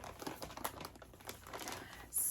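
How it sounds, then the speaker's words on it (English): A plastic bag holding yarn skeins in a yarn shop crinkles and rustles in a continuous close burst of crackles, with no talking over it. "So, sorry for the crinkling"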